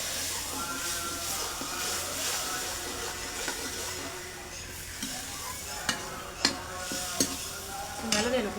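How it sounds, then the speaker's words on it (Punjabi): Steady sizzling and frying of masala in a kadai with scraping stirs, cooked until the oil separates, sharper spatula clatters near the end; no voices. "ਇਹਨੂੰ ਚੰਗੀ ਤਰ੍ਹਾਂ ਪਕਾ ਲਾਂਗੇ ਮਸਾਲੇ ਨੂੰ"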